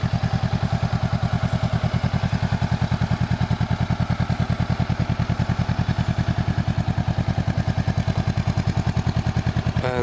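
Stock exhaust of a 2021 Honda CB500X motorcycle idling alone, a steady, close, even rhythmic thumping pulse that holds constant throughout.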